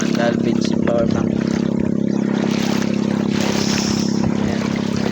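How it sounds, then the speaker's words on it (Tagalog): A boat motor drones steadily and loudly on the strong-flowing Pulangi river, with rushing water beneath it throughout. "malakas yung agos ng tubig sa Pulangi"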